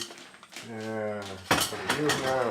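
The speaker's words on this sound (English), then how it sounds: "Oh, there's my cutlery and plates." Cutlery and plates clink briefly on a kitchen counter, a few near, sharp knocks after a short stretch of speech, with another voice over the clatter.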